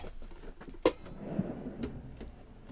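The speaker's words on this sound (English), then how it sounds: "A lot of storage here as well, so big drawers like this." Big kitchen drawer in a campervan sliding open and shut, with a sharp knock near the start followed by a softer rolling slide and light clatter, close and fairly quiet.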